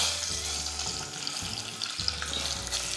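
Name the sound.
egg frying in oil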